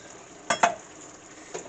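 A spoon scrapes and clinks twice through sausage ratatouille vegetables and parsley in a hot pan, two quick close strokes over a faint sizzle, then a lighter tap.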